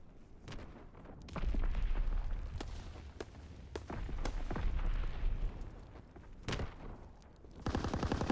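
A grenade explodes in a first-person shooter free-for-all match set in the Ardennes Forest, amid a fairly quiet, busy stretch of scattered gunshots and thuds, with rapid gunfire bursting near the end.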